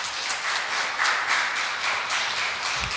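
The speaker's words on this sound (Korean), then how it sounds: "큰 격려의 박수 부탁드립니다" Applause from a congregation in a church, a steady patter of many hands clapping at moderate volume, with no voices.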